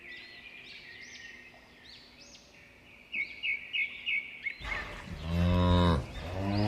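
A cartoon cow moos loudly by a riverside pasture, one long drawn-out call after a few seconds of soft bird chirps and twittering.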